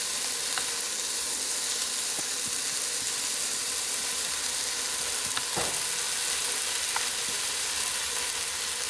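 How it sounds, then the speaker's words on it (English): Vegetables and deer meat stir frying in a full pan, a steady close sizzle with occasional light clinks and scrapes as the food is stirred, continuous and without talk. "And I'm just going to keep stir frying them around."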